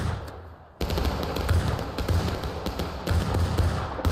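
Musket fire in the War of Rights video game, a skirmish line firing independently, with scattered overlapping shots cracking near and far in a steady ragged volley.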